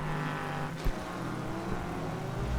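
An Aston Martin GT3 race car engine in the rFactor racing game at Sepang, humming steadily at a fairly low level with one brief knock, and no talking.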